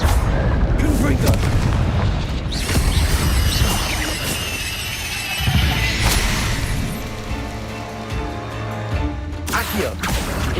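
Explosive Confringo spell blasts in Hogwarts Legacy, booming crashes and bursts in quick succession amid loud, busy combat sounds, with a voice speaking intermittently over the action.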